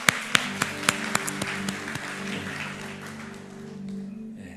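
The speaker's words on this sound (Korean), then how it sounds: "박수로 우리 사모님 목사님 환영하도록 하겠습니다." A church congregation at an autumn revival meeting claps to welcome the pastor and his wife, starting with a few sharp, separate claps that swell into a fuller round of applause and then fade.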